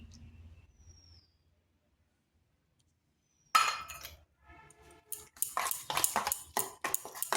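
An egg is stirred into a pointed gourd and onion mixture. After a near-silent stretch, a spoon clinks and scrapes against the bowl in quick, repeated bursts up close.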